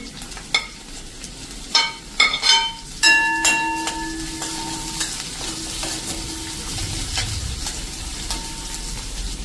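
Chopped green onion going into a pan of hot oil over a low flame, several sharp metallic clinks of a spoon against the pan, then a steady sizzle continuing underneath, fairly close and with no speech.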